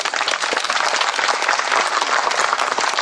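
Sustained applause from a crowd at a diploma ceremony, dense steady clapping at an even level throughout with no pauses.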